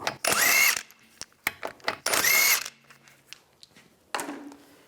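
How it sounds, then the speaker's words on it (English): Power tool bursts removing the rear wheel lug bolts on a 1998–2010 Volkswagen Beetle, two long loud whirs followed by shorter clicks and a final brief burst, close by with no talk. "If you have a center cap, you want to pop that off. Take the lug bolts out."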